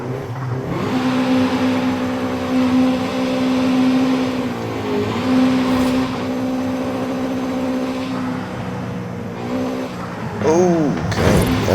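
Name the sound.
Honda Civic EP3 Type R engine revving in VTEC, wheelspin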